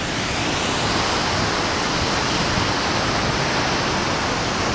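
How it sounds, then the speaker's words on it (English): A waterfall in the Multnomah Falls area rushes with a dense, even, full-band roar that stays loud and unbroken throughout, with no voices over it. "This is one of my favorite waterfalls here, and there's hardly anybody here."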